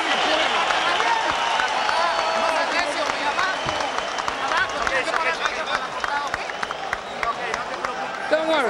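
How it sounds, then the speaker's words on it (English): Boxing arena crowd rising to its feet with sustained applause and cheering, a dense, loud roar of clapping and voices throughout, with speech mixed in. "And the crowd comes to its feet for the first time tonight."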